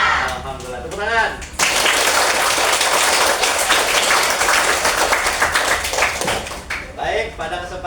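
Children in a morning classroom greeting clap hands together in a loud burst of a few seconds, with a teacher's voice speaking before and after the clapping.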